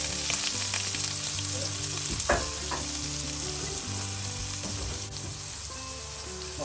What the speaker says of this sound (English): we're gonna go ahead and throw this into the pan